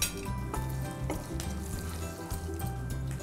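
Cumin, asafoetida, turmeric and green chillies sizzle in hot oil, a steady crackling hiss broken by a few metallic clinks of a spoon against the pan, close and clear.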